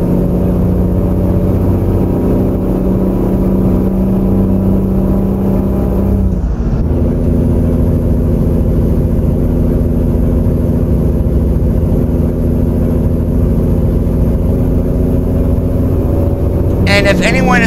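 Steady, loud truck engine drone from a Peterbilt 389 in American Truck Simulator, running a custom engine sound mod; a continuous low rumble that holds evenly throughout, with a brief dip partway and no voices.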